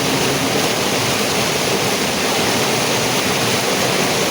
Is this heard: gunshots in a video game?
no